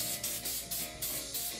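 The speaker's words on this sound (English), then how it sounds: "So then I'm gonna take some hairspray because I like where it's going." Hairspray is sprayed onto styled hair in rapid short hissing bursts, about five puffs in quick rhythmic succession over a steady mechanical background hum.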